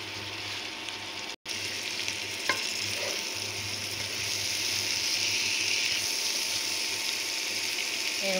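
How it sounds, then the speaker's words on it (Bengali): Boiled cauliflower and other vegetables go into a pan for vegetable khichdi, setting off a steady close sizzle with a brief cut, a few clinks of utensil on metal, and quiet stirring, with no talk. "এখন আগে সবজিগুলো দিয়ে দিচ্ছি।"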